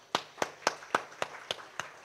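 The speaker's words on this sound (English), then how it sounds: "We need to give a round of applause." A Sri Lankan audience at a talent summit gives a short round of applause, heard as seven or eight distinct, evenly spaced claps at moderate distance rather than a dense wash.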